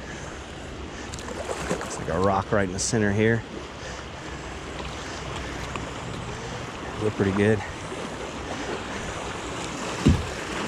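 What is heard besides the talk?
kayak in white water rapids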